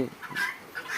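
A chicken on a farm giving a couple of short clucks, close by and brief.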